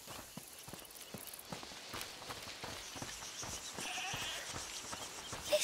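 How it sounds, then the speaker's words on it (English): A goat bleats inside a house in A Plague Tale: Requiem, short faint bleats over soft clopping steps and quiet ambient game sound. "Is that the goat you talked about?"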